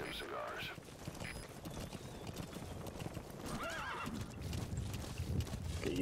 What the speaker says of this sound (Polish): Chodzenie na konia.